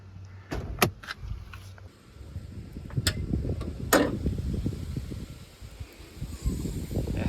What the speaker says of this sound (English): Pop the hood